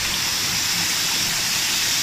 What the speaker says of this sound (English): This is the hidden waterfall.